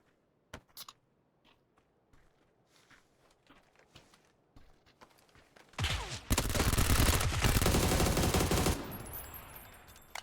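In a PUBG match on the Sanhok map, sparse footsteps and a few isolated shots give way to a loud, sustained burst of automatic gunfire lasting about three seconds. The firing then fades back into quieter in-game sounds.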